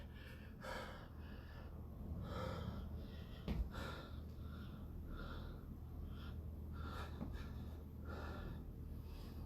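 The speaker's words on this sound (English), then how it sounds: "lots of breathing" Heavy breathing during a bodyweight workout: rhythmic, forceful inhales and exhales repeating roughly every second, faint and close, with occasional sharp gasps.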